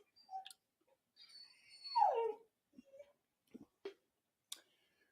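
A dog gives a faint, thin whimper in a quiet room, rising and falling for about a second, surrounded by a few soft scattered clicks and taps.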